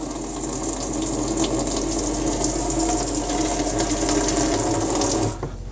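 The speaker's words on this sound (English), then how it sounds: "So we'll press the pump. You can hear the pump going." A motorhome's water pump hums steadily beneath rushing tap water, a continuous loud flow that cuts off abruptly near the end.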